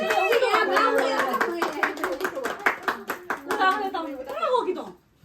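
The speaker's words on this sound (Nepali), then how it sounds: "पहिला ताली बजाउँ न यहाँ।" A child and others clap hands together in a rapid run of sharp claps, heard under a child's speech and chanting voices before the sound fades out abruptly.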